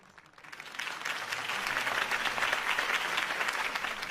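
Crowd applause swells at a campaign rally for Harvey Dent in Gotham City, rising quickly from quiet into steady, dense clapping that stays strong to the end.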